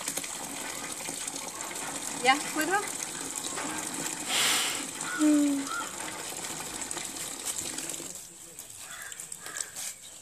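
Water gushes steadily from a tap that keeps running, a broad wash of noise under nearby speech and a few short clatters, with the flow dropping away near the end.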